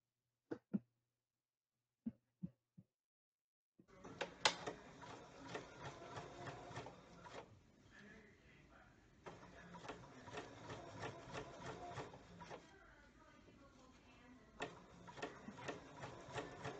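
A Bernina sewing machine stitches a sleeve cap, running steadily for long stretches with a rapid mechanical stitching rhythm and brief slowdowns, preceded by a few sharp clicks in near silence.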